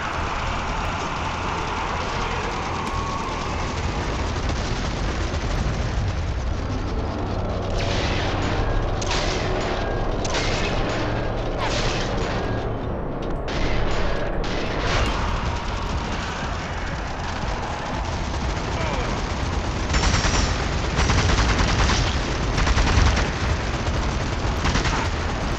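Machine gun fire in the zombie shooter Zombie Army 4: Dead War rattles in repeated bursts over a constant background rumble, with clusters of rapid shots in the middle and toward the end.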